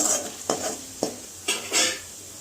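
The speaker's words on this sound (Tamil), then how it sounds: "நல்லா ஒரு நிமிஷம் எண்ணெயிலேயே பச்சை பசை போகிற அளவுக்கு நல்லா வதக்கிட்டு வேணும் நல்லா கலந்துட்டு வேணும்" Garam masala is sautéed in oil in a pan for a paruppu kuzhambu, stirred with four distinct scraping strokes about half a second apart over a faint, steady sizzle, close and clear.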